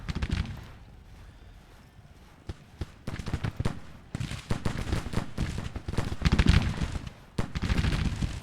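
Massed rifle volleys from troops in a Civil War game ring out in repeated bursts of gunfire, loud and close, with crackling shots and short pauses between ragged fusillades.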